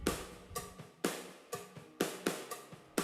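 A drum kit recorded through room mics panned hard left and right plays a steady groove of kick, snare and cymbal hits about every half second, with cymbal wash ringing between strikes and no voices.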